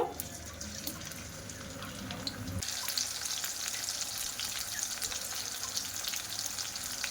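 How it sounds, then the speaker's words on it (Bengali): Onions frying in hot oil as the first step of a raw mango pickle, a steady close sizzle with faint stirring scrapes that turns brighter and hissier partway through, with no talking. "তেলটা গরম হয়ে গেছে এবার আমি প্রথমে পেঁয়াজগুলো ভাজা করে একটা ব্রেস্তা বানিয়ে নেব"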